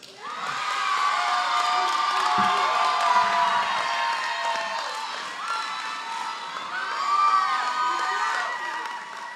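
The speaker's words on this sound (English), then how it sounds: "if you could clap for Colette" A graduation audience at a Discipleship Training School cheers, whoops and claps steadily throughout, a dense, loud crowd roar with shouts rising near the end.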